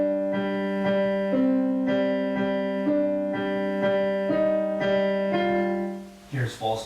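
Solo piano plays the Shin Gojira theme slowly, a steady low repeated bass note under a sustained melody moving in stepwise chords, ending in a brief rustle.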